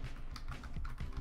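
Computer keyboard keys tapped while playing Fortnite on a PS4, a run of soft, quick clicks close by over a steady background hum.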